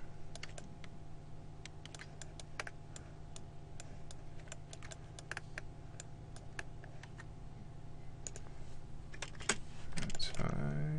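Computer keyboard keys are tapped in scattered, quiet clicks over a low steady hum, irregular single and double presses spread across the stretch, close and faint, with no talking.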